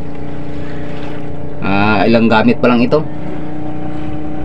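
A new engine on a small wooden outrigger boat (bangka) runs at a steady idle, its even, low droning hum continuing throughout, close by, while someone speaks briefly over it.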